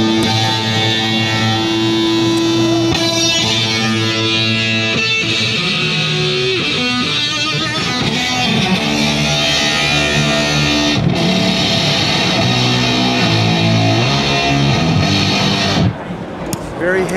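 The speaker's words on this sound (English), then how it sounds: "if we take a fuzz like this fuzz and run the machine through it, it will do some interesting kind of crosstalk distortion" Electric guitar played through a ZVEX Machine pedal into a fuzz, giving a loud, dense crosstalk distortion with gnarly, saturated sustained notes and shifting chords, heard continuously at a busy trade show booth.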